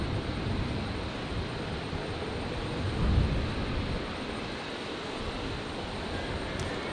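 A Qantas Link Embraer 190 jet beginning its takeoff roll on a stormy night at Brisbane airport, a steady broad engine roar with a brief swell midway and no talking.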